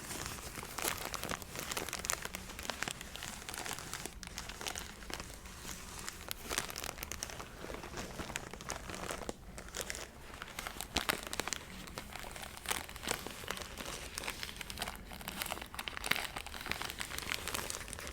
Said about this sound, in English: they actually make a really relaxing sound, I think. Like the crinkles are nice.